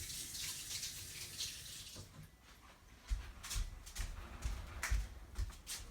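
Water splashes and trickles as a paint brush is swished and rinsed in a small container, with bursts of sloshing and clinking growing louder toward the end, close by and with no talk.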